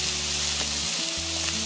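German and Hungarian fermented sausages fry in a hot pan with a steady, close, loud sizzle that runs continuously without any talking.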